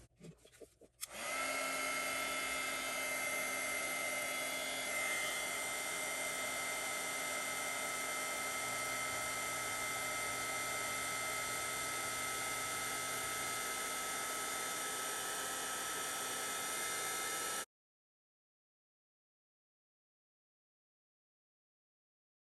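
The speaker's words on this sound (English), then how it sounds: "And we're going to get the heat tool" A craft heat tool for heat embossing blows a loud, steady whirring roar that starts abruptly near the start and runs unbroken for about sixteen seconds before cutting off into silence.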